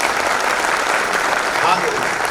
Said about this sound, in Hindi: सबके लिए जोरदार तालियां बजा दीजिए